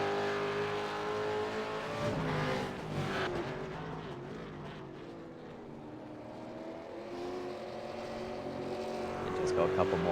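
A race car at Silverstone shifting into sixth gear and braking hard into Stowe: a continuous engine drone whose pitch climbs and then falls, heard under steady commentary.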